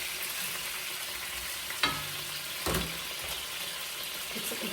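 Chicken sizzling in a frying pan, a steady close crackle broken by two sharp scraping clatters as the pieces are turned.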